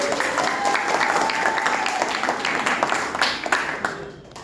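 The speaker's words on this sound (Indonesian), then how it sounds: "Oke, tepuk tangan dulu." Audience clapping hands at a meeting, a full round of applause with distinct individual claps standing out, briefly overlaid by a voice, then thinning out near the end.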